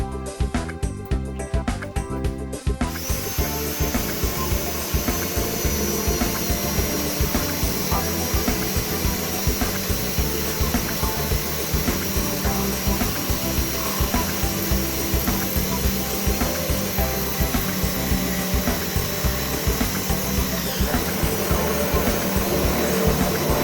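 A power drill bores through metal with a drill bit while working on a school bus back door lock, a steady loud whirring grind running nearly continuously after a brief start.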